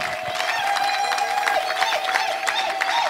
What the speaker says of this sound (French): Est-ce qu'on peut applaudir? Qu'est-ce qu'on peut applaudir? Poussons un peu des cris de joie.